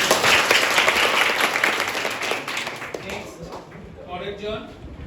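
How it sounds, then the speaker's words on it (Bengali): Students at a school campaign event in Gaibandha clap loudly together, a dense burst of applause that fades away after a few seconds, with voices heard underneath. "জোরে একটা হাততালি দাও তো।"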